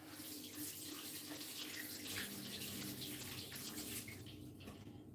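Tap water runs steadily over fresh ginger being rinsed at a sink, a soft continuous splashing hiss at low volume with no pauses.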